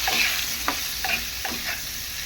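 Stirring taro with turmeric and salt in a hot pan, with a steady sizzle of frying underneath and several scraping strokes at a slow, irregular rhythm, close by.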